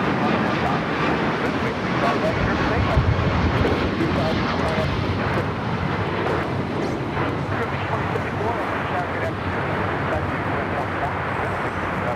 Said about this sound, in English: Flight taking off is United Airlines flight 1635 heading to Dulles in the 737 MAX 8